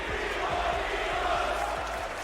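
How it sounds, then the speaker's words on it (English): A capacity WWE arena crowd chants in a steady, rhythmic cadence through a Randy Orton vs. John Cena match, the repeated beats carried over a dense, continuous roar of audience noise. ""We Want Divas" chants then rang out throughout the arena"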